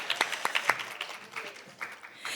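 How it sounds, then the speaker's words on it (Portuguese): Sparse applause at a Brazilian conference, a few close, sharp hand claps at first, then softer, scattered clapping from the room with faint murmuring underneath. "Palmas, por favor."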